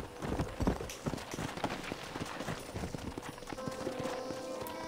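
Horse hoofbeats in the Red Dead Redemption video game: a steady run of close, fast clip-clops lasting the whole stretch, under background game ambience.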